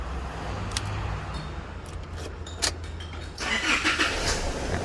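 A key-operated Isuzu D-MAX pickup, fitted with a new immobilizer key, cranks and starts; a brief key click comes first, then the engine catches and runs at a steady idle nearby.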